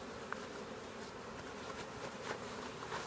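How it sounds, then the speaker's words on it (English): Honey bees buzz steadily around a beekeeper at an off-grid cabin, a continuous low insect drone that stays close and fairly quiet throughout, with no talking. "You've got a bee on me."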